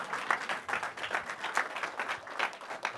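Church congregation applauding during a worship service, a steady patter of many hands clapping at moderate distance, continuous for about three seconds with no talk over it.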